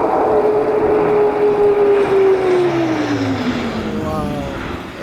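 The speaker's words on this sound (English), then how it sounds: "This is a Airbus A400 military aircraft for a Mach loop" An Airbus A400 military transport aircraft making a low flyby through the Mach Loop, a loud sustained propeller-engine drone whose pitch slowly falls as it passes and recedes, with a steady rushing roar underneath.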